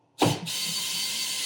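A 7/16 ratchet wrench cinches fasteners on a chaise lounge seat rail. A single sharp clack is followed by a rapid, continuous clicking buzz of the pawl, close and clear with no talk.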